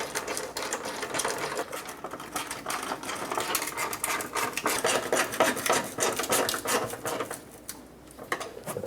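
Bolts on a Ford F-150 fog light assembly get tightened in quick ratcheting clicks and rasping turns. The bursts are close and irregular, with brief pauses between them.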